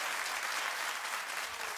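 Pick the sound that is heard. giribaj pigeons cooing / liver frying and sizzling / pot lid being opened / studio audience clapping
studio audience clapping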